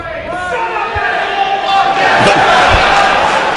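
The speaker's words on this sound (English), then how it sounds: "Chuck hearing it from the crowd here in New Orleans" A pro wrestling crowd in New Orleans roars and jeers at a wrestler named Chuck, a loud, dense wall of crowd noise throughout with no clear talk.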